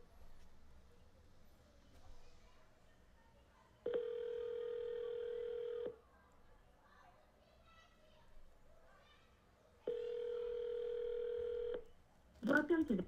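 Telephone dialing and ringback tones sound during outbound calls, with two long steady tones of about two seconds each separated by quiet gaps. Children playing near a pool can be heard faintly in the background.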